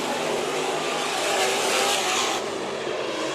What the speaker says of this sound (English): This final heat race for the IMCA Modifieds.